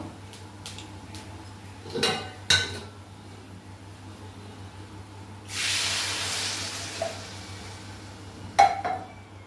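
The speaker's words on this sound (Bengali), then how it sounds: "এবার এতে জল দিয়ে দেবো।" Water is poured into a pot of potatoes and chana dal in a village kitchen, a soft hissing splash lasting a couple of seconds amid scattered metallic clinks of utensils, with no talking.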